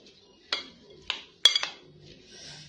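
A spoon clinks against a bowl while boiled chickpeas for Karachi-style chana chaat are stirred with spices, four or five sharp metallic taps and scrapes at uneven intervals, close and clear in a quiet room.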